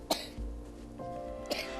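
A sick child in a Kenyan home coughs quietly, three short separate coughs spread over about two seconds, faint and alone without talk.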